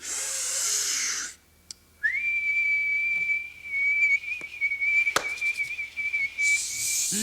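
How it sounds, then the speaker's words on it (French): A person whistles a long, steady, high note that holds for several seconds, loud and close, with a brief break and some bumps and rustling near the end. "on peut siffler nous aussi"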